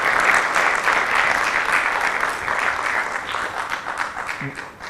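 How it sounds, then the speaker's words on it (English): At a club's 15th anniversary celebration, a large audience gives a big round of applause, a dense, sustained clapping that starts strong and gradually tapers off. "can we have a huge round of applause?"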